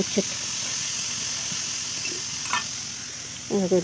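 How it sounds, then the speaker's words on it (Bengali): Bitter gourd fries in a pan with a steady close hiss of hot oil. A voice breaks in briefly near the end. "দিয়ে উচ্ছে কটা ভাজবো"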